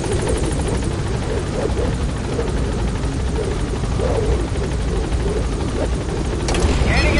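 A helicopter lifts off in Metal Gear Solid V, its rotor a loud, dense, continuous chop that fills the scene, with game voices speaking over it.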